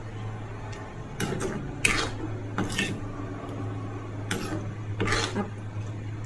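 A spoon scrapes and knocks against a metal pot of thickening potato kurma in short, irregular bursts over a steady low hum of a stove or fan.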